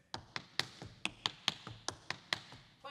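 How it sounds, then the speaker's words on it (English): A paradiddle drum rudiment tapped with sticks, close and quiet. Crisp, evenly spaced strokes run at a steady moderate pace with slight accents. "That's a paradiddle. So mine sounds like this."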